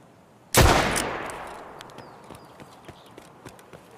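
A single loud, close gunshot in Escape from Tarkov cracks out and rolls into a long fading echo, followed by faint scattered clicks and distant ticks.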